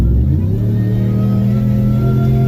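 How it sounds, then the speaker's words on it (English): A loud, steady engine roar from a Whipple-supercharged Ram pickup truck drones close by, with a rising supercharger whine layered over the low rumble as it accelerates. "the supercharger whine is what I've missed"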